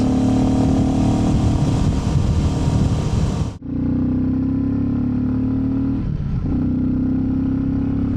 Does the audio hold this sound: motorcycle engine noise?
yes